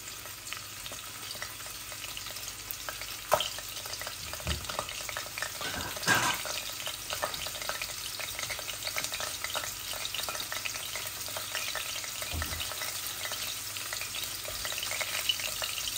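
Puffed rice, cumin seeds and bay leaves fry in hot oil with a steady, close sizzle, an occasional stir or scrape breaking through, and no talking.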